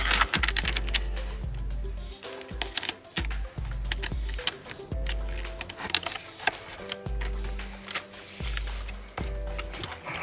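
Clear packing tape is pulled off the roll and pressed down, giving a run of sharp crackling rips and taps with brief pauses between them, close by and fairly loud.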